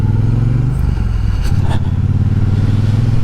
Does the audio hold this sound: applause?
no